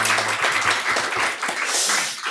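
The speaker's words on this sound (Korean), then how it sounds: "우리 박수로 환영하겠습니다." A church congregation claps briefly to welcome newly appointed deacons, a short dense burst of applause in a room.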